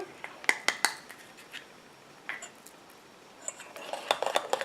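Cosmetic cleansing milk for sensitive skin being stirred in a container after bisabolol is added, heard as a series of light utensil clinks and scrapes against the vessel, sparse at first and then quicker near the end, with no talk.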